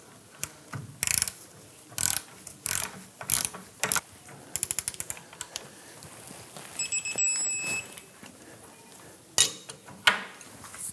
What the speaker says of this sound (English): We're gonna torque the rear bolt to 130 foot-pounds.